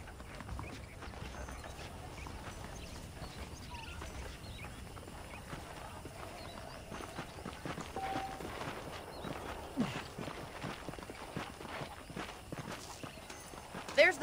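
Horses' hooves clip-clop at a walk in the Red Dead Redemption video game, a soft, irregular patter of steps close by under quiet game ambience, with a slightly louder burst near the end.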